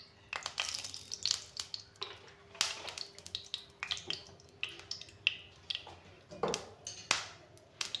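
Refined oil sizzling in a hot kadai, a faint steady crackle broken by sharp irregular pops and spatters, close and quiet, with no talking.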